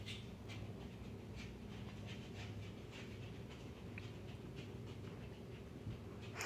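A dachshund pants close by in quick, rhythmic breaths over a faint, steady background hum, with no voices.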